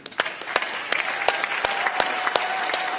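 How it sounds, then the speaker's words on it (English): A university homecoming awards show audience claps together, a dense, steady round of applause with sharper individual claps standing out through three seconds, fairly loud and uninterrupted. "Another round of applause, please."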